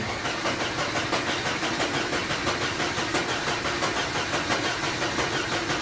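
A Mercedes 220E engine cranks on starting fluid and catches nearby, settling into a loud, steady, pulsing rumble with a dense mechanical roar.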